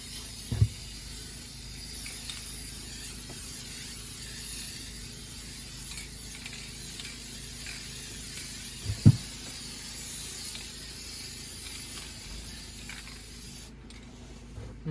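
Aerosol spray paint hisses steadily onto an ATV rear rack, a continuous close spray with a couple of brief clicks and knocks as the can is handled.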